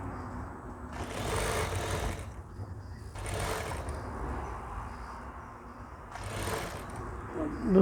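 Sewing machine stitching a sleeve onto a ladies' shirt, running in three loud, steady bursts of rapid buzzing with quieter pauses between them.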